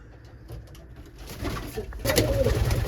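Pigeons in a coop, including Budapest squabs, give low, soft cooing calls at close range over background rustling, with the coos growing fuller and louder toward the end.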